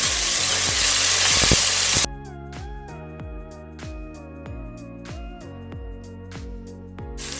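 Ginger garlic paste sizzles in hot oil for a couple of seconds, a loud, hissing fry that stops abruptly as music with tonal notes takes over.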